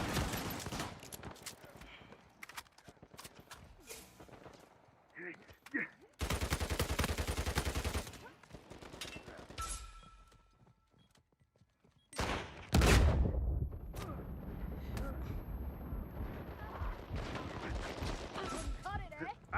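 Blind-fire gunfire in Uncharted 4 multiplayer comes in rapid, loud bursts of shots separated by short pauses, with a voice talking between and over the volleys.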